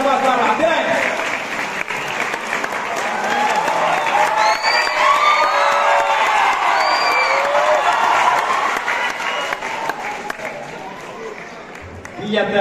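Sustained audience applause with cheering and whoops at a BSF dog performance at the Nadabet India–Pakistan border in Gujarat, a dense, loud crowd clapping steadily for about twelve seconds before fading out.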